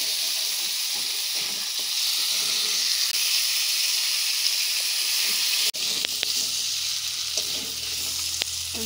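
Water poured onto goat meat frying for a papaya curry sets off a loud, close, hissing sizzle that shifts partway through into a rougher bubbling steam hiss, with no talking.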